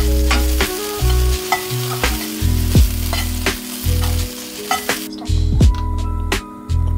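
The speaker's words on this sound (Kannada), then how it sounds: "ನೋಡಿ, ಇವಾಗ ಬೆಂಡೆಕಾಯಿ ಸರಿಯಾಗಿ ಫ್ರೈ ಆಗ್ತಾಯಿದೆ." Okra frying in a pan for bhindi sambar, a steady close sizzle broken by repeated stirring and scraping strokes that recur every second or so, with occasional light utensil clinks.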